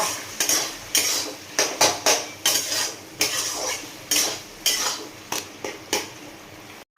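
A spoon scrapes and clinks against a pan as kochu (taro) greens cooked with chickpeas are stirred, about a dozen quick strokes in an uneven rhythm, close and clear with a faint sizzle beneath.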